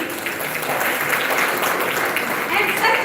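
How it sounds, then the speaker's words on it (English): An audience claps steadily for a chief guest being welcomed at a college event in Ambala City, a dense, continuous wash of applause held at an even level for the whole stretch. "So clap for him."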